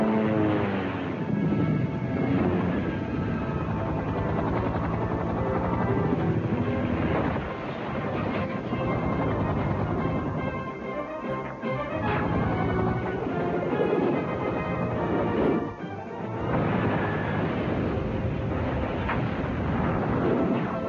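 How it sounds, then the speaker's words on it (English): A stolen helicopter flies in pursuit in a 1994 film scene, its rotor and engine roar loud and continuous, with a heavy rumble and dramatic score throughout. "in pursuit of subject in stolen helicopter"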